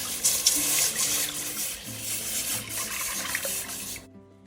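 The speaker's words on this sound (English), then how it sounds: "I'm also gonna fill up the rest of the pot with water." Tap water runs steadily into a cooking pot for a Vietnamese crab noodle soup, a continuous close splashing hiss with a faint hum beneath, cutting off abruptly near the end.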